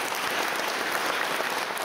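Audience applause at a live fan convention session, a dense, steady wash of clapping from a large crowd that holds at full strength for the whole stretch without any talk over it.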